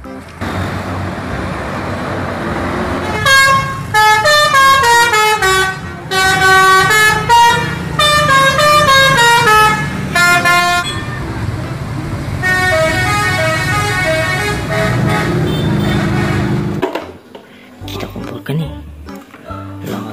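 A bus horn plays a melodic tune in repeated bursts over steady engine and traffic rumble, loud and close, with voices mixed in beneath.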